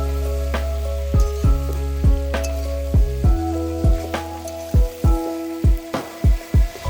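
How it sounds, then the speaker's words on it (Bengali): Duck meat frying in stone-ground spice paste over a wood fire, a steady close sizzle broken by a run of sharp knocks and scrapes from stirring that quicken toward the end, with no talking. "এই যে সব মশলাগুলো দিয়ে এটা ভালো করে কষিয়ে নিচ্ছি মাংসটা"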